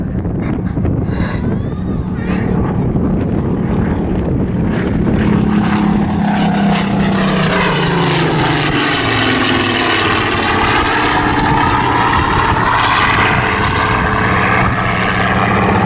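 A Mark 19 Spitfire at around +8 boost, about 250 knots, roars past at an evening airshow display, its piston engine swelling loud and close before the pitch drops away, with wind buffeting the microphone.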